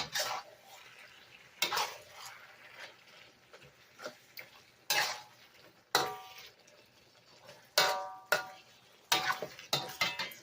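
Scallions tossed with flank steak in a hot pan for a Cantonese black-bean-sauce stir-fry. A utensil gives sharp, irregular clacks and scrapes against the pan over a soft background hiss, with no talk.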